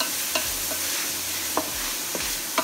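Leeks sweat in a pot, a soft steady sizzle running throughout while a spoon stirs them with a few scraping knocks, close and alone with no talking.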